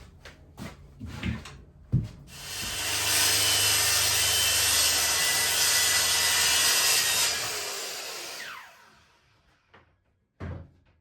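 A saw rips lengthwise down a wooden board, one sustained, loud, steady cutting roar lasting several seconds that then tapers off, with a few knocks and handling clatter before and after.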